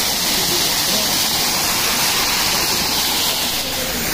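Natural mountain spring water rushes loudly and steadily beside the Kedarnath trail, a dense close-up roar of flowing water with no break.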